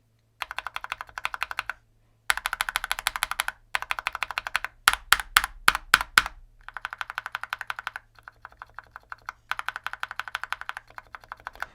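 Mechanical keyboard fitted with a single O-ring under one key, typed in close, even bursts of quick clicks separated by brief pauses, with a cluster of sharper, louder strikes in the middle.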